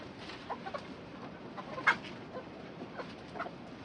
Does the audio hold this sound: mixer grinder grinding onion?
no